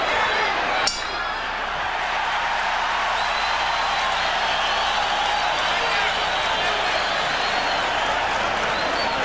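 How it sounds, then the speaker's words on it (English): A packed crowd at a Julio César Chávez versus Meldrick Taylor boxing match roars in a steady, loud wash of cheering, with a brief sharp clank near the start. "the crowd begins to heat up as Julio César Chávez turns up the pressure"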